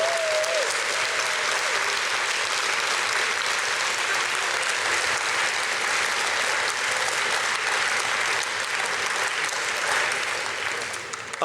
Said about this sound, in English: So a round of applause for everyone is here